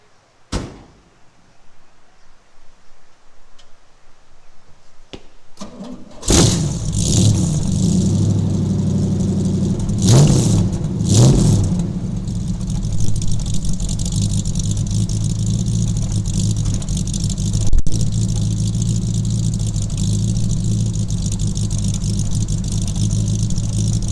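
A 1934 Ford fitted with headers fires up after a short cranking burst, then settles into a loud, rough idle with two sharp revs of the engine close by, rumbling steadily to the end.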